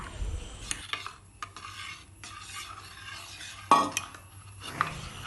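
Aloe vera gel being mixed in a bowl, quiet intermittent scraping and clinking of a utensil against the bowl, with one sharper knock near the end and no talk.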